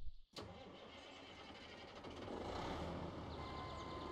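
A tractor engine cranks and catches in Weed Farmer Simulator, a sharp starter burst followed by a steady mid-pitched idle rumble that swells slightly and holds, heard alone with no talk.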